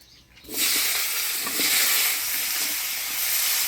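Dried red chili, whole cumin seeds and cut potatoes hit hot oil for a Bengali village-style fish curry, setting off a sudden loud, steady sizzle that keeps hissing close by without a break.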